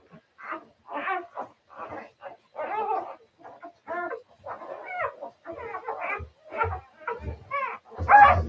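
A young puppy screams and whimpers in repeated sharp, high yelps during a dog's labor and whelping, close and loud, with short gaps between cries and no talk.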